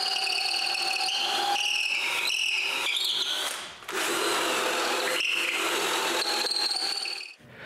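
Power drill boring a hole through the pivoting part of a wooden mobile cart, a whining, high-pitched bit sound with shifting squeal, briefly pausing near the middle before resuming and stopping at the end.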